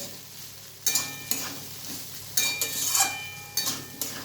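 Spice masala frying in a pan for a papaya and chana dal curry, a continuous sizzle under repeated metal spoon scrapes and clanks against the pan.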